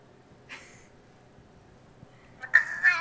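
Loud house cat yowling in two short, harsh calls, one brief and the second louder and drawn out near the end, heard close over a quiet background.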